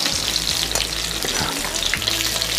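Beef patties sizzle steadily in hot oil in a frying pan, a dense continuous crackle with occasional stirring or turning sounds, close and fairly loud, with no voices.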